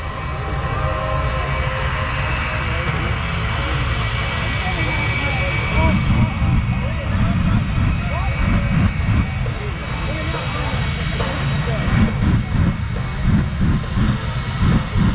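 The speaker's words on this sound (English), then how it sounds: "here comes a jet truck" A loud, continuous jet truck engine roar at a night air show in Stuart dominates, rumbling steadily with rough pulsing texture throughout, as if from a powerful engine nearby.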